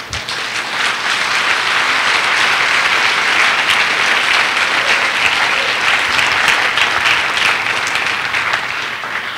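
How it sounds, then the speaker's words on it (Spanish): A church congregation applauds, a loud sustained wash of many hands clapping together for over nine seconds without a break. "Denle un aplauso a Dios."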